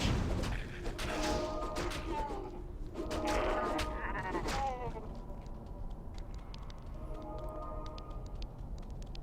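Goat men from a dark fantasy video game let out several bleating calls over the first five seconds, with game ambience, clanks and faint effects continuing afterward.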